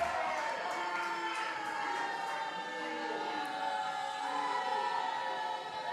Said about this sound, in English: This crowd chanting, Jack, Jack, Jack, Jack.